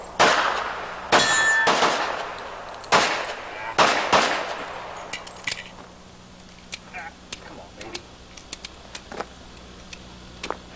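Loud gunshots ring out at an IPSC open shooting match, several sharp reports in a quick irregular string at the start, then fainter distant shots and metallic clanks on steel targets, with people talking quietly nearby.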